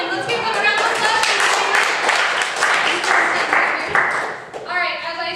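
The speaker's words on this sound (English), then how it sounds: "Let's give them a round of applause." Audience applause at a live show, a dense burst of clapping from a crowd that carries steadily for several seconds, fading briefly near the end before picking up again, with voices mixed in.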